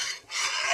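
An egg mixture is stirred nonstop in a pan over a high gas flame. A brief, close, raspy scraping swells after a short dip.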